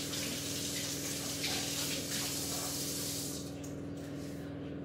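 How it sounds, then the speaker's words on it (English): Tap water gushes steadily into a kitchen sink while a tablespoon measure is rinsed, a close, continuous splash that eases slightly toward the end. "I'm gonna have to wash my tablespoon measure."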